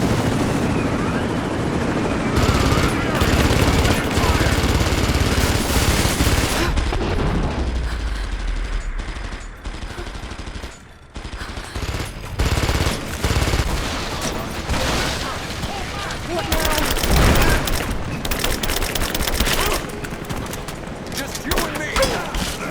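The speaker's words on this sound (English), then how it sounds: "Contact! Give me covering fire!" A firefight in the Rise of the Tomb Raider video game delivers loud, dense bursts of gunfire and booming blasts over a helicopter-like drone, with voices shouting in between.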